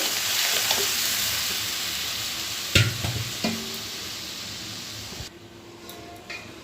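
Masala spices sizzling in a pan while being stirred before boiled dal goes in, a steady close frying hiss with a few sharp scrapes and clinks of the spoon, then a quieter stretch near the end.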